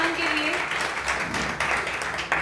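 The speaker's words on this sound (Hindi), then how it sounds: "जोरदार तालियां हो जाए प्रशांत के लिए।" An audience claps for a contestant named Prashant at a college singing competition on campus, a brisk burst of applause with a voice speaking over it and the clapping rising again toward the end.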